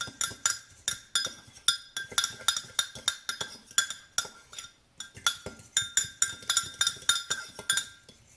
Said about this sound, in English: now I'm going to mix it up. Yep, it says mix with a fork